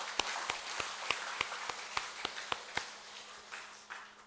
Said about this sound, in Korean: 박수 한번 하나님께 영광 드립니다.